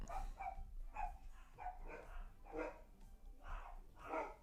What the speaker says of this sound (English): I just don't think all that barking is necessary.